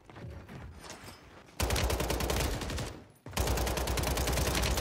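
Gunfire in the shooter Warzone 3, a dense, loud stream of rapid shots in two sustained bursts, split by a short lull.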